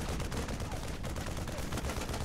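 Rapid gunfire from units in StarCraft 2 blasting away at junk, a dense continuous clatter of shots with no pauses over a loud battle backdrop.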